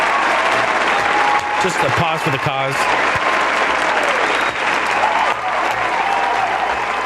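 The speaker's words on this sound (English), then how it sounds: "Can we just have a round of applause?" A live-stream audience claps in sustained applause, loud and continuous throughout, while someone speaks briefly over it near the start.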